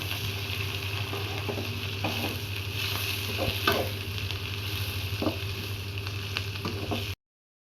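Green chilies and curry leaves sautéing in a pan for a spicy chicken gravy, with a steady moderate sizzle, a low hum and several spatula scrapes and taps. The sound cuts off abruptly just before the end, and no one speaks.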